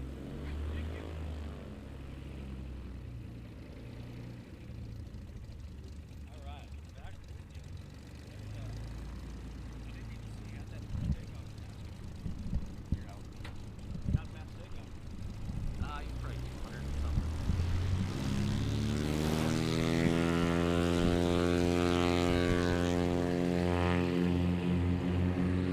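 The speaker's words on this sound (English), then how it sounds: "Rotated a little early, cost him about 100 feet on that takeoff." A propeller airplane taking off during a National STOL competition qualifying round in Central Florida, the engine droning steadily and then swelling into a loud roaring climb near the end, with voices talking over it.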